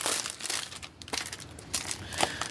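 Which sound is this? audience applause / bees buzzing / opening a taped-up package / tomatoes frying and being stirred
opening a taped-up package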